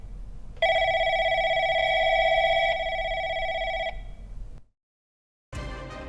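A telephone rings in a short horror film as an incoming call arrives, giving a steady electronic trill for about three seconds, then a brief silence before another loud sound begins.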